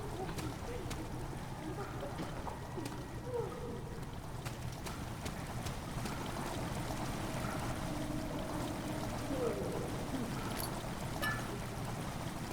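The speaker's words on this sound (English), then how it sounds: "Water has begun to slowly fill the chamber." Water steadily pours and rushes into a stone chamber in the horror game Amnesia: The Dark Descent, a continuous mid-level wash of flowing noise lasting throughout with no talking.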